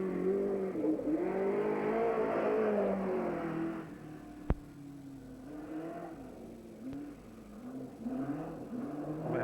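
A new car engine being run in on a raceway revs steadily, its droning pitch rising and falling, then a sharp click and a lower idling hum before revving picks up again, with no talk over it.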